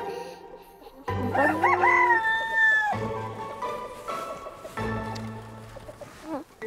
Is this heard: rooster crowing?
yes